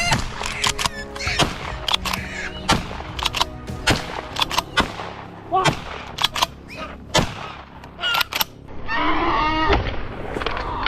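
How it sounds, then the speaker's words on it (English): Rapid bursts of gunfire during a wild boar hunt on farmland, sharp shots cracking out one after another in irregular clusters, loud and close, with a rougher noisy stretch near the end. "a rapid barrage of bullets was fired."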